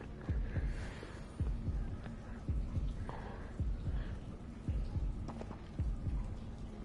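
A heavy, muffled heartbeat pulses in regular double thumps, about one per second, in the video game Hogwarts Legacy. It is up close over a soft background hum, with no talking.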